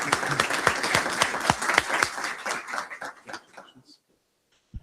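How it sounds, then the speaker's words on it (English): Audience at a high school board of education meeting applauding for several seconds, the clapping dense and then thinning out to silence. "Let's give him a round of applause."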